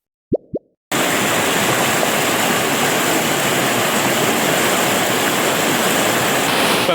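The Kalpathi river rushes past the temple, a loud continuous roar of flowing water that starts abruptly after two brief plopping knocks and holds steady to the end.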